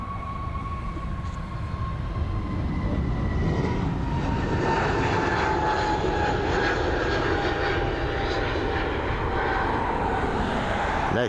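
An airliner climbs away from Dublin Airport bound for London Heathrow, its jet engines a steady, loud roar that builds and holds throughout with a whining tone on top.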